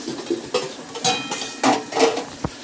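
A metal pot lid lifts off a pot of simmering taro on a low flame, giving a few clinks and scrapes spread over a couple of seconds, close and fairly clear, with no talking.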